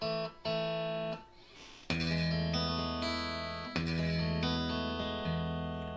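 Bass guitar played through a Marshall 4210 amplifier with its built-in compressor engaged, ringing sustained notes with a few fresh plucks, loud and close, no talking.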